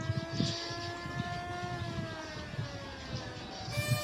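A passenger launch from Dhaka idles at a ferry ghat, its engine a steady droning tone with a low rumble, heard at a moderate distance in open air.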